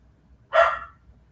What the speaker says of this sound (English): And my dog is barking at somebody.